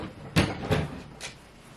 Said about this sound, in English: oh, I put it in the wrong drawer.